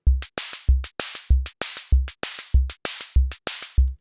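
A free plugin emulating a vintage Korg drum machine plays a dry electronic beat of booming kicks alternating with crisp snare and hi-hat hits in a steady pattern, loud and close.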